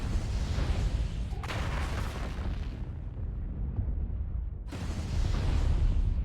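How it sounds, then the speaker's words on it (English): Heavy weapon fire rumbles through a mech battle video game, with dense booming blasts, one sharp burst near the 1.5-second mark and another loud surge near the end over continuous low roar. "more shots coming out"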